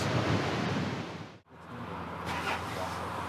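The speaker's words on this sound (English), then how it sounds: "It's blowing like crazy here." Strong wind blows near the Cook Strait in New Zealand. It roars as a continuous broadband rush close on the microphone, dips briefly midway, then surges back.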